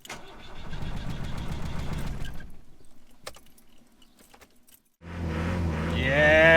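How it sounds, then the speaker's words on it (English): A campervan engine cranks for a few seconds, goes quiet after a failed attempt, then catches and starts, its idle rising into louder revving at the end. "We got it started, as you can hear."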